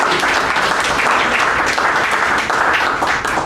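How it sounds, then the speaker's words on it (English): An audience at a Toastmasters club meeting applauds steadily, a dense, sustained clapping close by that fills the whole few seconds with no letup. "Give a big round of applause"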